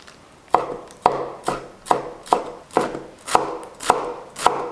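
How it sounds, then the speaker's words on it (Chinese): A knife chops a small bunch of garlic chives on a cutting board, about ten crisp, evenly spaced chops close by, with no talking. "接下来一小把韭菜，给它切碎。"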